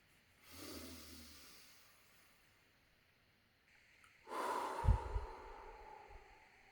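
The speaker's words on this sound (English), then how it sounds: "So let's take a deep breath together." Slow deep breathing, close and quiet: a long inhale, a pause, then a longer, stronger exhale like a sigh, with a soft rustle near the end.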